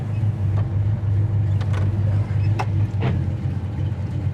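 A 1957 Chevy engine idles with a steady, deep rumble heard up close, a few brief clicks and knocks rising over the constant low drone.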